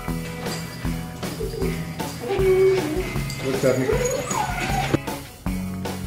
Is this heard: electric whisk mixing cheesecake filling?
no